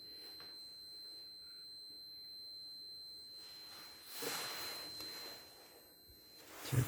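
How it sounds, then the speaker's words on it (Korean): A multimeter on a continuity test gives a thin, steady high-pitched tone across a motor coil's leads, lasting several seconds at low level, with brief handling noise and scraping in the background. "여기 도통 시험에 이렇게 멀티미터끼리 삐 소리 나죠?"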